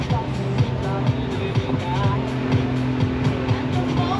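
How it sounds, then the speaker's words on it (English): A Pitts Special aerobatic biplane's engine roars at an airshow during a snap-roll manoeuvre, a loud steady drone with a pulsing, wavering tone throughout. "liberal use of the rudder in that turn as he snap rolls the aircraft around."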